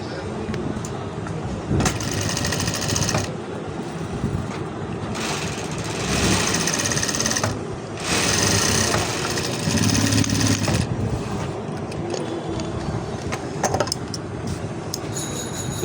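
A sewing machine stitches the bottom border of gabardine trousers in long continuous runs with brief pauses, loud and close, with a steady mechanical hum throughout.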